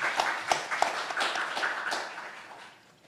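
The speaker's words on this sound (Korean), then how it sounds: "박수로 맞이해 주시기 바랍니다" An audience at a Jeju Forum space-industry policy session gives scattered, loose applause, with individual claps standing out and the sound tapering off toward the end.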